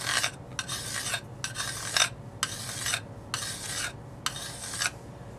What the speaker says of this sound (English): So I'm going to take the diamond and just lap off a little bit of it.